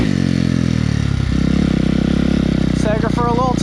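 A Suzuki RM-Z250 dirt bike engine runs loud and close after starting, its low buzz steady and pulsing, with someone talking over it near the end.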